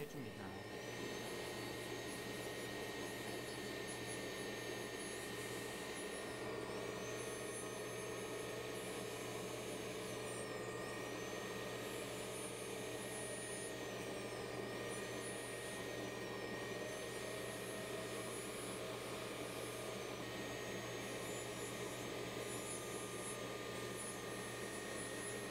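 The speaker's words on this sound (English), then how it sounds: "the feather-like wheel should be used to polish the grooves" A feather-like polishing wheel works the grooves of a sintered, stained zirconia crown, giving a continuous high whine with a steady droning hum that dips slightly in pitch now and then, loud and close throughout.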